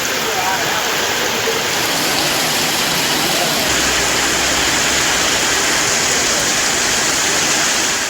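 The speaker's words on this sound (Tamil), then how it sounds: "2வது நாளாக சூறைக்காற்றுடன் கனமழை பெய்தது" Heavy rain driven by strong gusting wind pours down steadily in Aranthangi, Pudukkottai district, a loud, dense, continuous roar of water with no talk heard.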